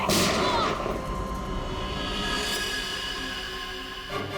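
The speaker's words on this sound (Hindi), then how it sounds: "उसके बाद दूसरी गोली चली" A loud gunshot in a Hindi TV crime drama opens with a heavy boom, then a long rumbling decay under a tense music bed, with a fainter hit near the end.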